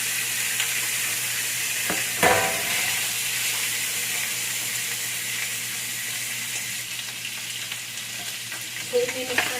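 Pork belly sizzles and spatters in hot cooking oil in a home kitchen, a steady loud frying hiss with a brief stir or clatter partway through and small crackles near the end.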